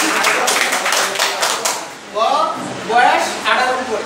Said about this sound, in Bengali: তো যারা 18 নিচে আছে তাদের জন্য একটা করতালি হবে